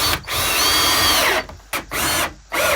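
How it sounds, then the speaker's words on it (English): Power drill driving screws into a wood frame while building a DIY studio, with three long whirring bursts separated by brief pauses, loud and close, with no talk. "I do want to put in 2 more screws to get this really tight together."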